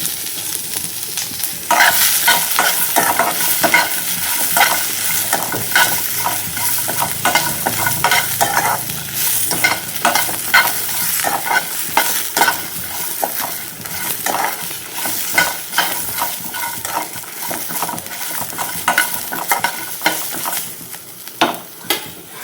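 Ingredients for an egg curry fry loudly in a pan with a strong sizzle and busy, rhythmic stirring scrapes and clatters that continue throughout; no speech.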